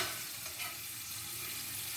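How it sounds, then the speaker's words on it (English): Chips sizzle gently in hot lard, a continuous soft crackling hiss at close range, fairly quiet and even throughout. "the sizzling's getting a lot quieter"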